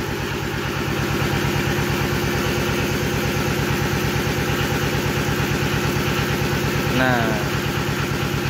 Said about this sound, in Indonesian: saya menggunakan ini sanyo ataupun mesin sedot